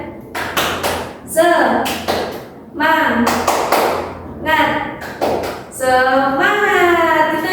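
A primary school class does the 'tepuk semangat' ice-breaker, with rhythmic bursts of group hand clapping. The claps come in repeated patterned sets, mixed with children and a teacher chanting along.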